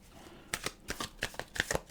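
Tarot cards being shuffled by hand in a quiet room, a series of crisp riffling and slapping bursts in quick succession, close and moderately loud.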